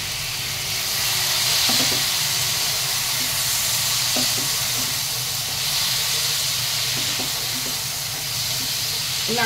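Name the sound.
cut pineapple pieces frying with dry chilli in pan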